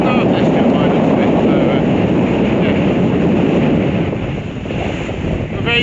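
Strong wind on a mountain walk near snowy slopes buffets the microphone in a loud, continuous roar that eases slightly toward the end.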